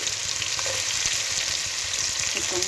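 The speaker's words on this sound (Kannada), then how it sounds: "ಸ್ವಲ್ಪ ಟೈಮ್ ಇದು ಎಣ್ಣೆಯಲ್ಲಿ ಫ್ರೈ ಆಗಲಿ" Carrots and beans fry in oil for pulao, giving a steady, moderately loud sizzle. Faint scattered taps from stirring sit under the hiss.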